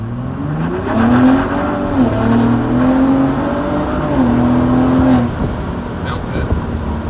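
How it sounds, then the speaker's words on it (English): A 2021 Ford F-150 Raptor's exhaust drones loudly from inside the cab, the engine note rising and falling through two acceleration pulls, steady and close throughout. "I do have the back window open to let some exhaust noise through"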